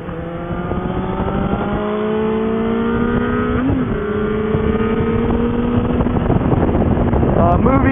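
A Kawasaki ZZR motorcycle engine drones steadily while riding, its pitch climbing and dipping through gear changes under constant wind rush, loud and close throughout.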